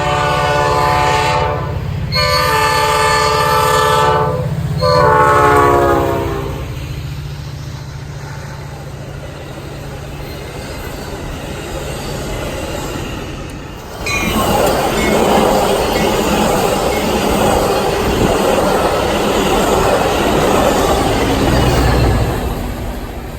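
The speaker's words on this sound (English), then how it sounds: "Train action." A train on a Midwest rail line sounds its horn in loud blasts up close, then rumbles past with rolling wheel noise that fades and swells again as more cars go by.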